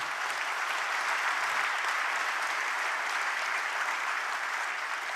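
Sustained applause fills a hall at a government policy briefing, an even, continuous patter of many hands heard from afar without any speech.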